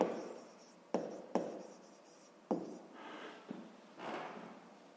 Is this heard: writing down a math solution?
yes